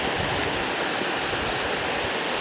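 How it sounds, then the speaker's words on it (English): A waterfall in the Peruvian rainforest mountains roars steadily and close, a dense continuous rush of falling water with no voices over it. "Different waterfall."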